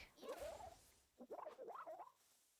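A frog creature in the Palworld video game gives two warbling, croaking calls that rise and fall in pitch, close and faint, with a short gap between them and no talk.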